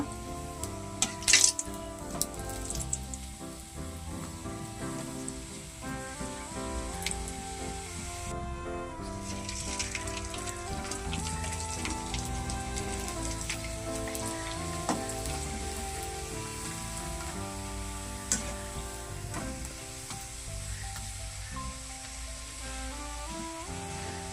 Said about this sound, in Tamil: இப்போ நம்ம வத்தை பொரிச்சிக்கலாம். அவ்வளோ சூப்பராக பொரியுது பாருங்க.